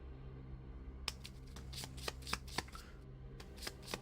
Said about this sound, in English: Shuffle the 16 Mythos cards together.